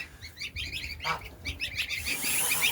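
Geese and ducks calling at an end-of-season hatching on a farm, a series of faint honks and chirpy calls in quick bursts, fairly distant.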